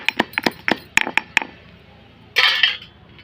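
Garlic and spices are coarsely pounded by hand for a village-style fish curry, with a quick run of sharp, close knocks and clinks followed by a short rough grinding scrape.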